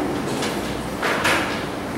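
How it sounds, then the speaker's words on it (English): A classroom door is pulled shut during a management lecture, making a brief broadband whoosh and clunk, then a short scrape like a lock being turned, over steady room noise. No one speaks. "How about if your girls lock the door behind you?"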